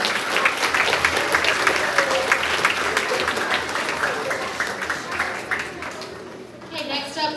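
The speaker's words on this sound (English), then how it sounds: "let's give them another round of applause" Schoolchildren and families applaud at a grades 4–6 awards assembly: steady, dense clapping fills the room, mixed with children's voices, and it thins out toward the end.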